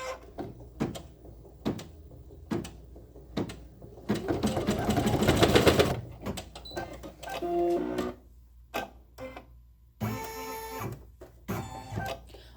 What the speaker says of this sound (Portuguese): E vou segurar a orelha e vou apertar para iniciar a costura.